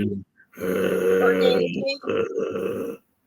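A voice imitates a low, rough growl or grunt, a sustained gravelly vocal rumble broken by a brief pause, loud and close to the microphone.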